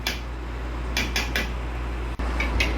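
Bisaya-style humba with soy sauce and lemongrass is stirred in a pan: a few quick metallic scrapes and clinks of a utensil against the pan over a steady low hum.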